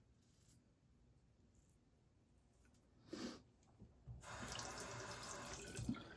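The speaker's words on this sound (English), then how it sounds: "I'll go ahead and rinse off, and then we'll go for a second pass then" Tap water runs into a sink as shave lather is rinsed off after a first shaving pass. The flow starts faint and brief, then becomes steady and fairly loud over the last two seconds. No one speaks.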